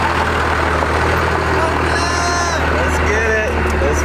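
A 12-valve diesel truck engine idles with a deep, steady low rumble throughout, with people talking and some higher noises over it.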